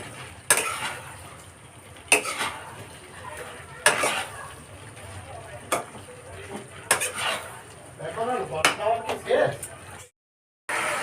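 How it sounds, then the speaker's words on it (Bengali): Fried chicken pieces are stirred into sauce in a metal pan, with repeated sharp clanks and scrapes of a utensil against the pan over a light sizzle, ending in brief silence. "এবার আমি এই সসের উপরে এই যে ভাজা চিকেনগুলো আছে সেগুলো দিয়ে মিক্সড করব"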